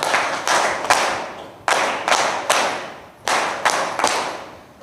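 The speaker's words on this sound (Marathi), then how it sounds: "त्यांच्यासाठी 3 वेळा आपण टाळ्या वाजवूया" An audience at a talk on monsoon illnesses claps in unison in three sets of three sharp claps. Each set follows a steady rhythm with a short pause between sets, and no voices are heard.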